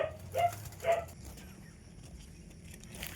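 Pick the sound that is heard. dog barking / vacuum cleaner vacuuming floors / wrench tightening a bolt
dog barking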